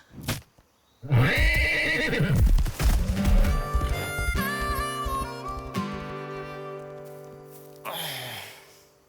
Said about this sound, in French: J'ai trouvé un vrai cheval sauvage